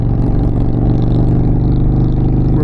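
An Indian Challenger Power Plus motorcycle drones in a steady, loud, close engine rumble while cruising with a group of riders, with continuous wind and road noise and no talk.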